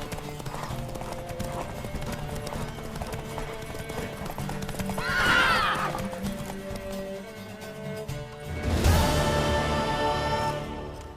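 A horse in The Witcher 3 video game trots with steady clip-clop hooves, gives a loud whinny partway through, then a second louder neigh near the end.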